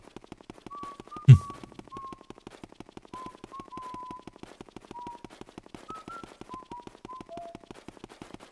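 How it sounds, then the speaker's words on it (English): In the video game Luigi's Mansion, Luigi whistles a short wandering tune, clear and up front over steady rhythmic ticking game music, with a single dull thump early on. "whistle your heart out, Luigi"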